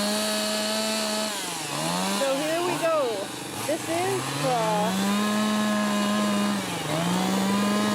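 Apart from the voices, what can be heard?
chainsaw carving wood at a carving competition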